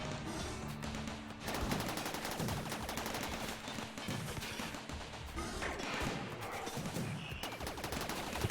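Mechs and turrets trade dense, continuous gunfire in a RimWorld battle, with rapid machine-gun bursts and heavier impacts layered into a loud, unbroken barrage.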